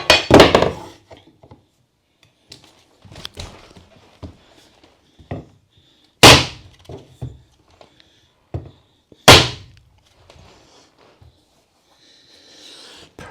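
Tapping tool pounding flooring boards into place in a tiny house, sharp loud knocks struck a few at a time with quieter taps and handling noise between.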